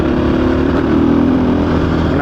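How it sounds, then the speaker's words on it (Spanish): Husqvarna FE 450 Rally motorcycle engine while riding, a steady loud droning hum with a slight swell midway, close and continuous with wind noise. "Una moto de rally, punto."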